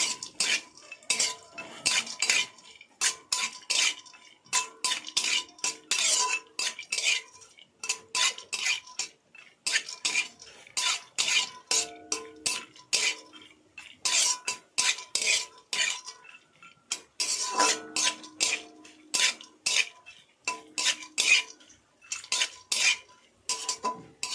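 A metal spoon repeatedly scrapes and clinks against a pan in quick bursts, stirring chopped cashews and peanuts with a faint sizzle underneath, no voices.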